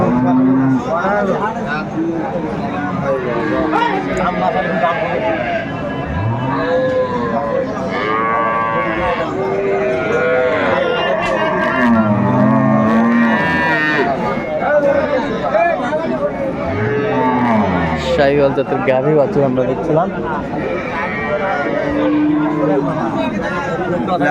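Cows and calves mooing repeatedly at a busy rural cattle market, close and loud, under constant chatter and bargaining voices from the crowd.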